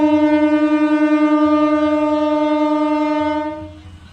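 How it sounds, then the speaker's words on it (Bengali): A train on the Singur–Jayrambati line, departing for Bankura, sounds one long, loud, steady horn blast that holds for about three and a half seconds, then fades as it pulls away, with low rumble beneath. "ট্রেন রীতিমতো ছেড়ে দিয়েছে একেবারে বাঁকুড়ার উদ্দেশ্যে রওনা দিল"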